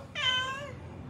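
Stray cat giving a single clear meow, nearby and moderately loud over a faint background hum, no speech.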